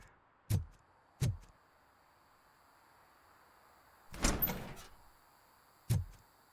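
A door shutting in the Robocop video game: a series of short, sharp thuds spaced a second or more apart, with a longer, louder rattling slam partway through, heard alone against a quiet background.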